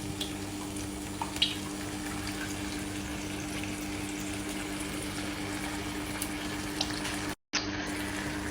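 Coconut milk is poured into a cooking pot, making a steady, even liquid rush that runs throughout with little change in level.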